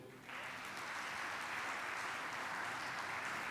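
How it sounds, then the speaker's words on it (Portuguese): Congregation at a church service applauding, a dense, steady wash of many hands clapping that swells in at the start and holds loud and even throughout. "Você pode aplaudir o Senhor."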